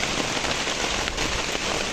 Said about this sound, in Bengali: গত কয়েকদিনের অপেক্ষার পর আজকে বৃষ্টি হইলো